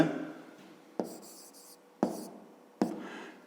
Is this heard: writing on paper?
yes